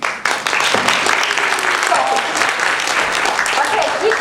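Audience of therapists breaks into applause for a speaker at a talk, a sharp onset followed by sustained dense clapping that stays loud, with a voice faintly audible beneath.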